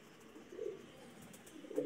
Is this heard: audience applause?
no